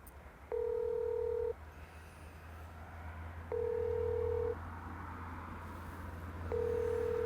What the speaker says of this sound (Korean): 여기 차주의 번호가 있어서 저희가 한번 직접 전화를 한번 해보겠습니다.